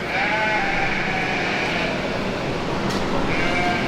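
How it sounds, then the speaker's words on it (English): Suffolk sheep bleat at a county fair, several drawn-out wavering calls close by over a steady rustling background, with no talk. "This is a Suffolk Sheep over here."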